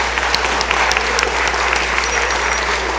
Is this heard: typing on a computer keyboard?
no